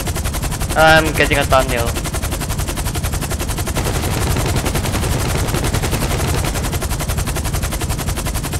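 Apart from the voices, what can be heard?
turreted limo machine gun fire in GTA 5 Online video game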